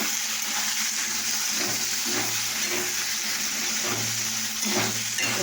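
Potatoes frying with salt and chilli, stirred in the pan: a loud, close, steady sizzle with scraping stirring strokes recurring across several seconds.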